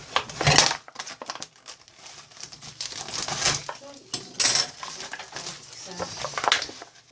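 A 760-gram packet of minced beef is cut open, making close crinkling, tearing plastic sounds with bursts of rustle and a few light clinks of a knife or utensil.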